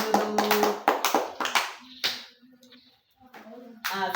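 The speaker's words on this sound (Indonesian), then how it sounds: "Tepuk tangan." A classroom of children claps hands in a few quick, loud rhythmic bursts, then the clapping fades into quiet classroom murmur and a short voice before another brief rustle.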